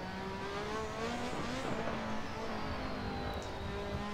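Turbocharged Lotus 98T Formula 1 race car in Assetto Corsa, its engine droning steadily at high revs with shifting pitch as it drives through corners, loud and continuous with no talk.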